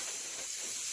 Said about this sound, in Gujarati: તો પૂરીઓ તળે છે